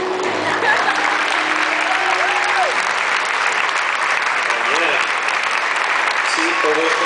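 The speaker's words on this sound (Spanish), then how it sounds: "Sí, todo este aplauso es para ti." A church congregation applauds a child at a dedication service, with loud sustained clapping filling the room and voices calling out over it.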